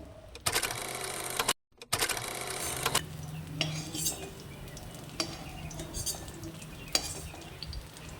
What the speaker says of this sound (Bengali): আরেকবার ভেজে নেব